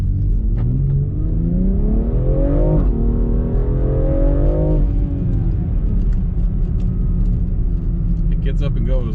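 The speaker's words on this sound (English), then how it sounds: "This will just give you an idea of the sound of the car." A 2020 BMW X3 M Competition engine idles with a deep, loud rumble, rises in two revving swells, then settles back to a steady growl.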